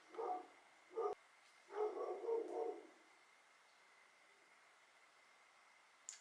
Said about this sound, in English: My neighbor's dog is so upset. I can literally hear him growling when he's not barking.